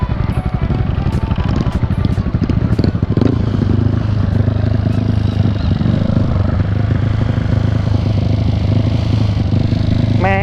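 An old motorcycle rattles along a rough road on a vintage-bike trip in Ban Chiang, its engine droning loudly and steadily throughout with clattering bumps and jolts from the uneven surface.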